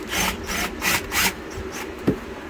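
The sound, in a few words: undoing hose clamps on a Mercruiser 5.7 engine boot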